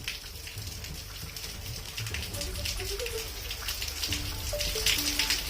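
Rain falling in Pithoragarh, Uttarakhand, after a spell of intense heat: a steady, fairly quiet hiss of drops that builds slightly toward the end, with a few faint tonal sounds in the background.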